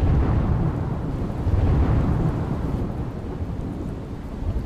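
Heavy monsoon rain pours down in Surat with rolling thunder, a dense, loud continuous roar of rainfall and low rumbling that swells and fades without any voices.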